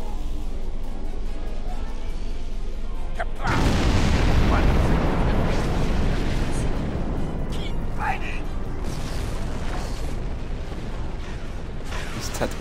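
A bomb blast from the Star Trek Online space battle bursts in after a quieter stretch, followed by a long rumbling roar with scattered booms and weapon effects beneath game noise.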